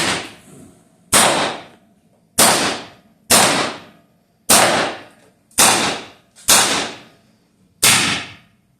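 A full-sized Viper air pistol fires seven sharp, loud cracks, each close and punchy with a quick decaying tail, spaced about a second apart with quiet gaps between.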